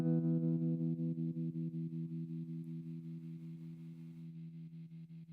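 Electric guitar played through a Fender Tone Master amp with its tremolo effect on, sustained chords pulsing in steady rapid volume throbs, loud and alone, slowly fading.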